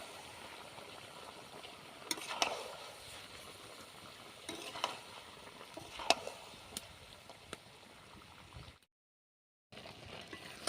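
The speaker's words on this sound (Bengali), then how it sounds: "দিয়ে দিচ্ছি লঙ্কার গুঁড়ো ভালোভাবে আমি এবার কষাতে থাকবো" Pangas fish curry being stir-fried with chili powder in a pan, a low steady sizzle with several soft scraping stirs of the spatula, faint and close, with a brief dropout near the end.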